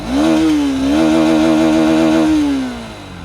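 A 2021 Honda Hornet 2.0 motorcycle revs through its side-hung single barrel exhaust, close and loud, rising, holding a steady buzzing pitch, then easing back toward idle.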